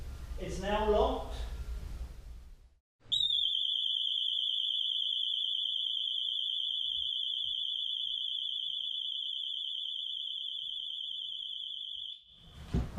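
A home security alarm, set off after a door is forced open, blares inside a house as one loud, steady high-pitched electronic tone lasting about nine seconds, after a brief stretch of talk.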